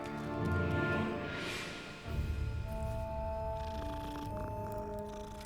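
A cat in a Hogwarts Legacy game scene purrs in a steady, close, rumbling drone over soft ambient game music and background tones, with no talking.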